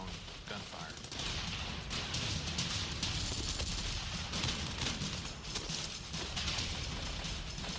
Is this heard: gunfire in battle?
yes